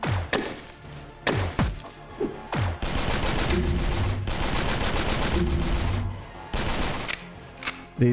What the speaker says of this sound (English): I think I'm just gonna use the rifle.